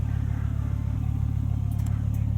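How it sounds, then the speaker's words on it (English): A 1996 Volvo 850 R with an IPD exhaust drives along, its engine giving a steady, loud low drone with a pulsing exhaust note heard from inside the car, plus a few faint clicks near the end. "IPD exhaust sounding good as always"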